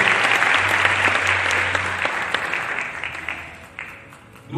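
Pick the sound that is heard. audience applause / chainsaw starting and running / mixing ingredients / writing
audience applause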